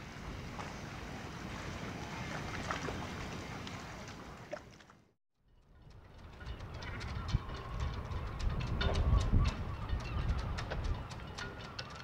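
A giant ultimate-class racing sailboat foiling at sea off Brittany: a steady roar of wind and rushing water, cut by a brief dropout midway, then building louder with spray and hull noise.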